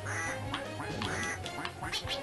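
Ducks quack repeatedly in the Duck Hunt mode of the Xbox One game IDARB, a string of nasal electronic-sounding quacks over a steady game hum, close and fairly loud.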